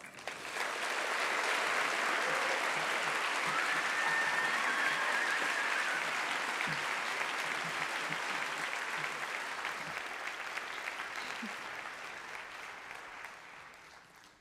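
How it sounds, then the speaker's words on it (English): Sustained applause from a conference audience welcoming a speaker, a broad wash of many hands clapping that swells in quickly, stays full for several seconds, then slowly thins and fades toward the end, with no talking over it. "Please put your hands together and join me in a round of applause for Jess."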